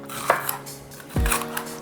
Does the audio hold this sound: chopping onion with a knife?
yes